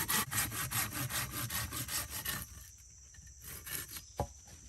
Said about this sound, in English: If you ever had a hard time cutting a piece of wood with a saw